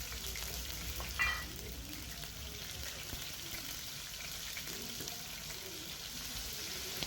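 Ginger, garlic and onion paste frying in mustard oil in a pan, a steady even sizzle throughout, with one brief clatter or stir early on.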